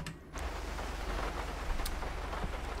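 Steady rainfall in the video game GTA 5 during a stormy night, a continuous hiss of rain on surfaces with faint low rumbling underneath, starting moments in and holding evenly with no talk.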